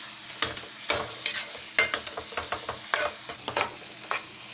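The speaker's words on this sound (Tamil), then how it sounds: "நல்லா கிரேவி நல்லா வதங்கி வரட்டும்." Pea kurma gravy masala sautés in a pan, with a soft sizzle under a quick series of scraping, clattering strokes of a spoon stirring it, close and rhythmic.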